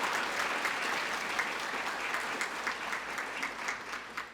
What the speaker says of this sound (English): Would you please give Morgan a round of applause for her hard work?